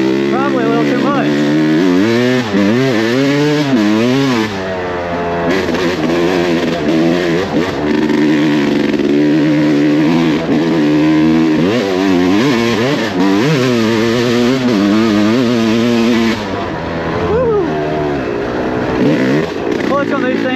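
A 2021 Yamaha YZ250X dirt bike revs hard in the woods, its engine pitch sweeping up and down in loud, continuous bursts for about twenty seconds, close to the listener.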